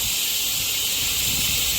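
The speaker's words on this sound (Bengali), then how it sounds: "আমি এবার এটা গ্যাসটা খুলে নেবো" Steam hissing steadily and loudly from a pressure cooker as it is opened while cooking vegetable dal, a continuous high airy rush without a break.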